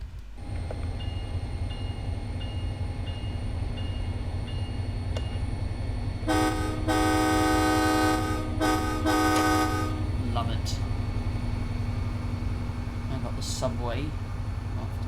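A train in Train Sim World 2 pulls away under throttle with a constant low engine rumble. Midway a loud horn sounds in two long blasts, with fainter tones afterward, and someone talks over it.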